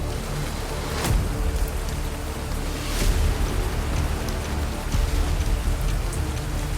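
Heavy rain pours steadily among wet rocks in the Himalayas, a loud, dense hiss with scattered sharper drops spattering nearby and no voices.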